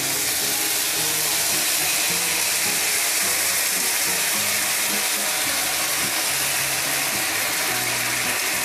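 A sauce of garlic, butter, mustard and honey sizzles loudly in a pan, a continuous dense crackle and hiss with faint clicking underneath, close up and without speech.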